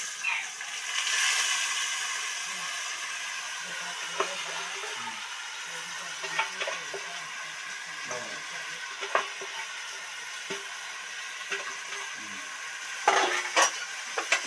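Ingredients for vegetarian khichuri fry gently in oil and ghee, a soft continuous sizzle broken by occasional clinks and scrapes of a spoon against the pot, with brief sharper clatters near the end.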